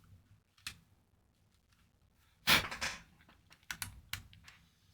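Low-profile keycaps being pressed onto a corn-coloured mechanical keyboard, a few faint plastic clicks followed by a louder cluster of snaps and taps, quiet and close.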